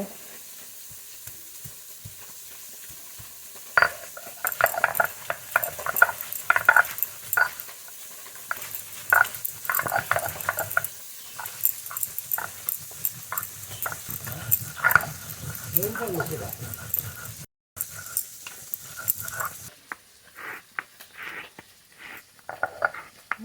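Small fish fry in a pan, a quiet sizzle broken by frequent stirring and scraping taps that come in uneven bursts, close by, with a short pause and the sizzle easing toward the end.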